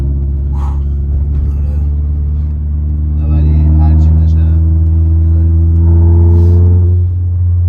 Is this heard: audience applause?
no